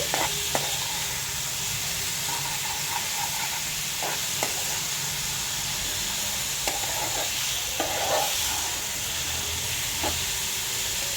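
Pumpkin and ginger chutney ingredients fry in a pan with a steady close sizzle and hiss, broken by scraping stirs and light clinks from a spatula through the whole stretch.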